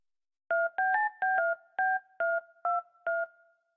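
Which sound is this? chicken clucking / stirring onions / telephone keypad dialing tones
telephone keypad dialing tones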